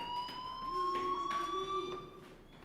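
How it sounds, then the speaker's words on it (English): Fire alarm in the video game Life Is Strange, a steady electronic siren tone with wavering pitch that sounds continuously at moderate level, with no talk over it. "Hey, do you hear that fire alarm?"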